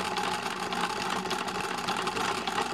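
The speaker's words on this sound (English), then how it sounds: "And then I just keep sewing" A sewing machine runs continuously as it sews a seam along fabric, producing a dense, even mechanical whir close by for a few seconds without any speech.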